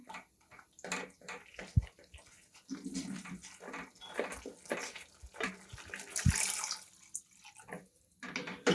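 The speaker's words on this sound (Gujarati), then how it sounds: "હવે આપણે આમાં પાણી એડ કરી દઈશું." Water pours into a cooking pot of soya chunk curry already seasoned with soy sauce, a close, splashy rush broken by short gaps and clinks, with no talking over it.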